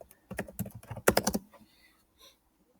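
Keys on a computer keyboard tapped in quick irregular bursts, close and crisp, pausing briefly before a final soft press.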